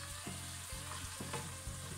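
Chunks of potato sizzle and fry steadily in a pan with oil, a dense hiss punctuated by soft thumps as they are stirred or settle, no voices.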